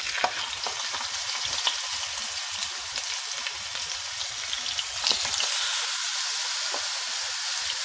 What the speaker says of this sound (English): Let this side sear.